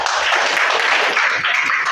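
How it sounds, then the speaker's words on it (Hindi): Loud, dense clapping from a classroom of students, a steady continuous burst of applause lasting throughout, with no speech over it. "इनके साथ जोरदार तालियां"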